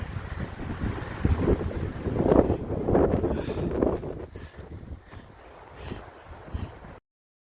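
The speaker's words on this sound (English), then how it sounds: "It is so windy and cold up here." Strong, cold mountain wind gusts along the Pacific Crest Trail near Idyllwild, buffeting the microphone in loud, roaring surges that ease off and turn patchier toward the end, with no talking.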